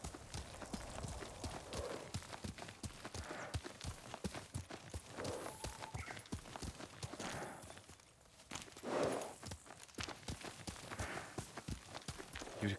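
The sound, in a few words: horse hooves clip-clop in a video game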